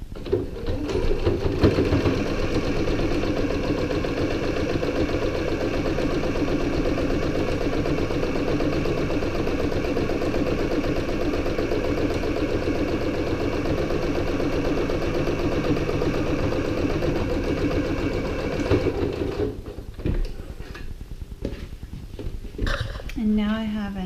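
Steady, loud mechanical whir of a sewing machine stitching a row across a quilted fabric panel for a laptop sleeve, running continuously for about twenty seconds before stopping, followed by faint handling sounds.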